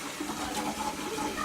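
Water runs steadily from the tap of a small hand-wash sink built onto the top of a Japanese toilet tank, a continuous close splashing stream with no voices.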